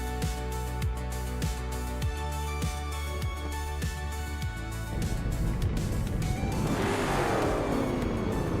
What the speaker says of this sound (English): Vintage supercars are blazing off the start line